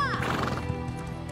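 A horse in the Elder Scrolls Online video game gives one brief, loud neigh that trails off quickly.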